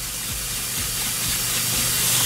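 Cold water is poured over hot, freshly cooked noodles, making a continuous loud rushing hiss with steam, steady and close for the whole stretch.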